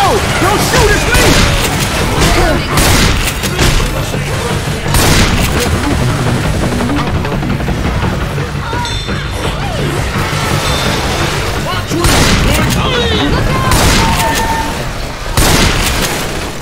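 Dense gunfire and booming explosions fill a Left 4 Dead 2 firefight in the No Mercy campaign, a loud, constant barrage of rapid shots and blasts with no letup.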